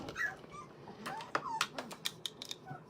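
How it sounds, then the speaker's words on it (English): Puppies whimper and yip in the background of a quiet room, faint, high, irregular cries and squeaks coming in short bursts. "And you can hear the puppies behind me"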